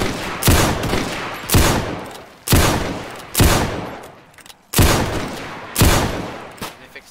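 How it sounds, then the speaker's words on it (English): Repeated musket volleys crack out in a Roblox Zulu Wars battle game, six loud broadband bursts roughly a second apart, each trailing off into echoing rumble, with no talk over them. "Fire at will!"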